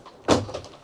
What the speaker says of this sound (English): Folding doors.